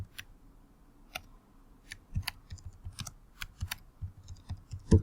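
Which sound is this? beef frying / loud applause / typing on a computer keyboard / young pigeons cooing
typing on a computer keyboard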